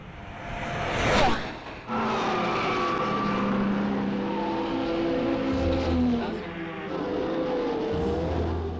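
A purpose-built race car on the Nürburgring Nordschleife, a fast engine whooshing past with a sharp peak of sound and then a sustained roar and drone at moderate distance.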